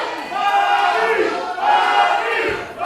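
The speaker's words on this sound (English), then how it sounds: "Listen to this crowd once again." Wrestling arena crowd chanting in the Impact Arena, two loud swelling waves of massed voices in a rhythmic chant, filling the space close and continuous.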